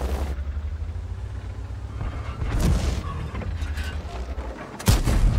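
A Covenanter tank fires HE shells in the World of Tanks video game: a few sharp cannon booms, one near the middle and a louder one near the end, over a steady engine rumble.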